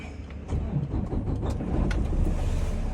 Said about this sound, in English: I'm gonna start the vehicle up.